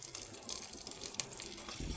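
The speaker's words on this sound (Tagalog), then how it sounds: "lagyan ko siya ng konting tubig kasi parang napansin kong dumikit na siya" A little water poured into a pan of chicken wings adobo gives a soft, faint splash and gurgle with a few brief sizzling spikes, lasting about two seconds.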